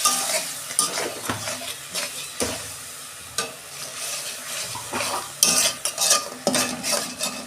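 A vegetarian potato and pointed gourd masala with tomato, turmeric, ground cumin and coriander powder is stirred in a hot pan, with repeated spatula scrapes and knocks over a constant close sizzle.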